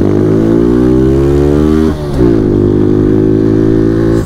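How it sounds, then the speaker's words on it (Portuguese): Small motorcycle, a Honda Fan 160 or Titan 150, accelerates hard and loud up close, engine pitch climbing steadily, dipping briefly at a gear change, then climbing again. "Puxando bem a motinha"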